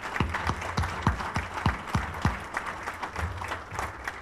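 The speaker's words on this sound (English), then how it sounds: "Let's give them a round of applause." Audience applause at a community forum, a dense wash of many hands clapping steadily for about four seconds, with low thumps throughout and no voices standing out.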